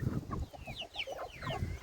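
Hens cluck and murmur in short, soft notes while feeding, a busy close cluster of fowl sounds with light pecking and shuffling underneath.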